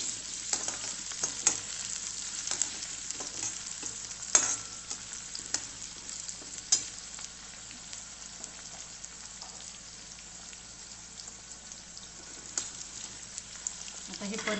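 Onion and tomato sautéing in a pan with curry leaves, a steady close sizzle and fry broken by scraping stirs at irregular intervals, no voices over it.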